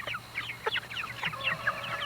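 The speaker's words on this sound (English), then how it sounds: "There's a little bantam down there." Bantam chickens cluck softly in short, quick, chirpy bursts at close range, with a low steady hum underneath.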